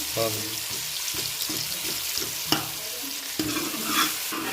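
Onions sizzle in a pan while being stirred during home cooking of potato and pea rice, with a scraping, clattering stir rhythm and a hiss throughout, and soft voices and water sounds faintly mixed in.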